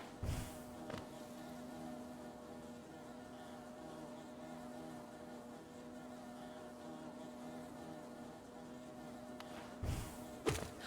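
A steady, droning buzz from bee enemies in the Hollow Knight game hums continuously at moderate volume, broken by a few short thumps near the start and end, with no voices.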